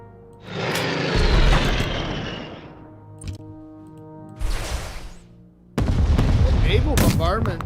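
Naval bombardment in the strategy video game Unity of Command 2, Barbarossa campaign: three loud bursts of booming, rumbling shellfire, the first long and rolling, the next two shorter, with quieter gaps between.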